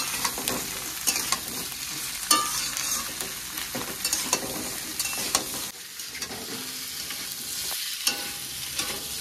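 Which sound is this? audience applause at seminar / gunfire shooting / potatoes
potatoes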